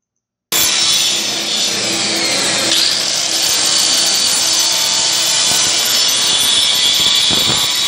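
A loud, steady power sander grinds continuously against wood during sailboat construction after a brief silence, a harsh broadband whir with slight shifts in pitch throughout.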